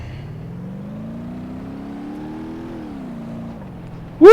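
An Ibishu Twoima car accelerates away in BeamNG.drive, its engine droning and climbing steadily in pitch, briefly dropping as it shifts, then a loud abrupt burst of noise at the very end.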